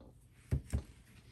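Scissors cut short slits into the sides of a soft craft gnome bunny, two quick close snips in succession against a quiet background.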